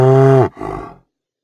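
A cow gives one loud, close moo, a strong tonal call lasting about half a second that breaks into a rougher, breathy tail before silence.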